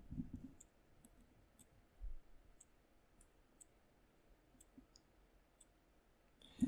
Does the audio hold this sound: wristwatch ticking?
yes